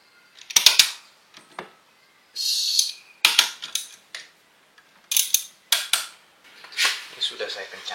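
Metallic clicks, clanks and short scraping bursts from tools working on the front shock absorber parts of a Polytron Fox electric motorcycle, coming in irregular close bursts with quiet gaps between them.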